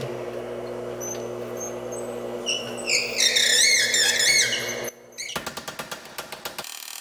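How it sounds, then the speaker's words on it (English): A power hammer stretches a steel panel for a replacement A-pillar on a 1939 Lincoln Zephyr, a run of sharp rhythmic metallic strikes near the end, following shop hum and squealing tones. "I think I might actually go to the power hammer and stretch that a little bit."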